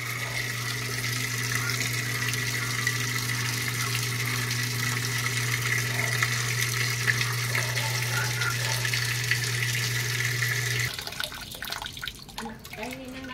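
Water runs steadily into a Samsung automatic washing machine with a faulty water valve, a continuous rushing flow with a low hum that stops abruptly near the end, leaving quieter handling sounds.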